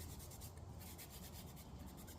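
Scrubbing on a machined part from a Cub Cadet Intellipower engine, heard as a steady, close, faint rasping rub with a quick back-and-forth rhythm over the machine marks, alone without talk.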